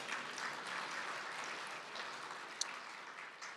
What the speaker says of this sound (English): Yeah, please clap, go ahead.